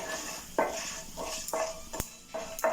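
Curry leaves and green chillies frying in oil for kuzhippaniyaaram, a soft steady sizzle with a few clinks of a spoon against the pan, close and quiet.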